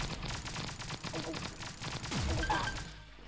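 Gunfire from the Pixel Gun 3D video game, a dense run of rapid game weapon shots with a brief burst of impacts, steady and fairly loud throughout with no talking.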